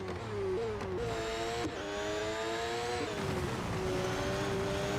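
A Formula-style race car engine in the Real Racing 3 mobile game whines at high pitch near Silverstone circuit, rising and dropping through quick gear changes over a constant loud drone.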